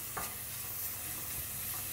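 Ginger garlic paste hits softened onions in hot oil for a mutton chukka, producing a constant close sizzle broken by a few spatula scrapes against the pan, with no voices.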